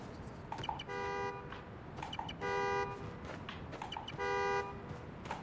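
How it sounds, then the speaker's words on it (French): A car horn in Marvel's Spider-Man: Miles Morales honks three times at regular intervals, each a sustained toot of about half a second. The honks are moderately distant and sound over quiet street ambience. "Le klaxon va me mener à la voiture"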